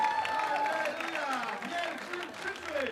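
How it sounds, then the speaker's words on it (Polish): A crowd of pilgrims at Jasna Góra applauds their group helpers, with a soft bed of clapping and cheering running under voices and talk, crowd-wide rather than close. "Serdeczne brawa dla nich w podziękowaniu za ich służbę, za ich poświęcenie."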